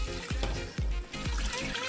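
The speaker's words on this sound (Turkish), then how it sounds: "Evet şimdi ılık suyu koymaya başlıyorum" Lukewarm water is poured into a pan holding melted fat, making a steady close splashing and gurgling with a few low glugs in rhythm.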